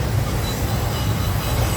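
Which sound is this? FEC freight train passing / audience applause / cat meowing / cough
FEC freight train passing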